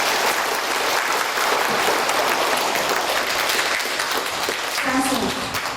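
Sustained applause from a lecture audience at a university Q&A session, dense and steady throughout, loud and close, with a voice faintly under the clapping near the end.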